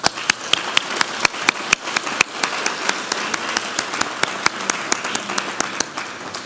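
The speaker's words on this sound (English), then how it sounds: "Please give a round of applause." A conference audience at a legal event gives a round of applause, scattered individual claps ringing out sharply over a softer bed of steady clapping, fairly close and sustained without talk.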